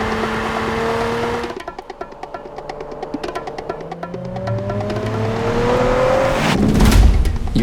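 A 2023 Nissan Z sports car engine revs hard toward about 7,000 RPM, with rising and falling tones, a brief ticking lull, then a loud roaring surge near the end, echoing as if between walls.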